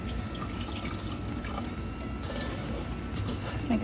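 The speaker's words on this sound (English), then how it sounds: "And then next I'm gonna slowly add, some" Cold water slowly poured into a cornstarch and sugar mixture in a kitchen, a soft continuous trickle and dripping close by, with no voices.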